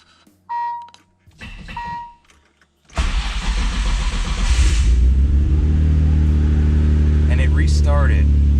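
A car engine from the Project RBZ garage build, jump-started from a jump pack, cranks briefly after a few chimes, then fires up and settles into a loud, steady running drone up close, with a couple of short beeps and some background voices.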